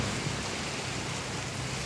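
Sudden heavy torrential rain pouring down in Lahore, a dense, steady hiss of downpour filling the air, loud and unbroken with no voices.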